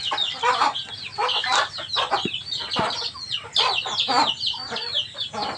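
Hen and chicks on a pig farm, the hen's repeated soft clucks mixed with rapid high chick peeps, close and continuous with no talk.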